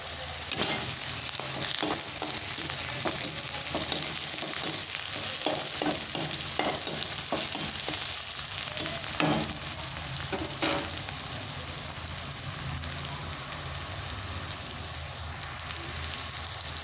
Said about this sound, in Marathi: गोल्डन लाल ब्राऊनपर्यंत भाजून घेऊ कांदा